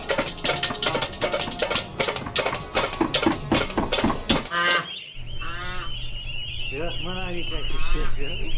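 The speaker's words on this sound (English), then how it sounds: "Mother Goose and her young." Geese honking, a mother goose with her goslings in Kashmir, loud, repeated close calls forming a noisy honking chorus, sharp at first and then settling into softer nasal cries.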